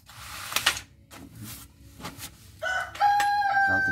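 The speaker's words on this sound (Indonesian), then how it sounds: "ayam berisik aja" A rooster crows loudly nearby, its drawn-out call rising near the end after a few scattered clicks and knocks.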